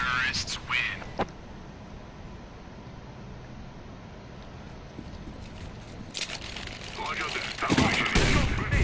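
Desert Eagle pistol shots in a Counter-Strike match, with a few sharp bursts at the start and a denser crackle of gunfire near the end, over steady game background noise.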